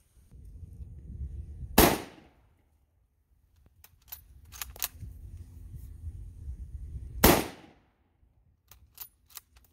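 Two loud, sharp gunshots fired at a dead tree outdoors, several seconds apart, each with a short fading tail, with faint rustling and small knocks between them.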